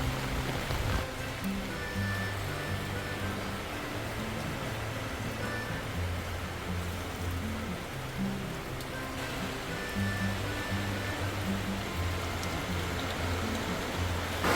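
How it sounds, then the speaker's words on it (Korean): Heavy typhoon rain pours down, a constant dense hiss heard from inside a greenhouse, with a low machine hum running underneath. "여기 하우스 안이라서 조금 지금 태풍이 오니까 빗소리 때문에 시끄럽습니다만은"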